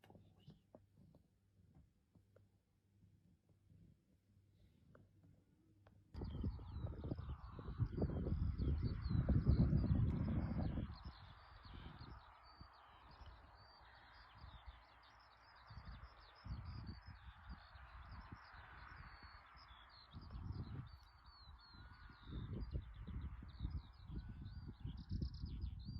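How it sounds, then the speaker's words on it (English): After a quiet start, harsh carrion crow calls ring out repeatedly at a moderate distance, layered over wind rumble and low background noise. "I get to wake up the next morning courtesy of the carrion crows."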